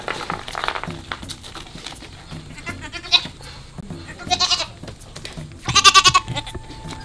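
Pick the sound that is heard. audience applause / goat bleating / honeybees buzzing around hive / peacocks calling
goat bleating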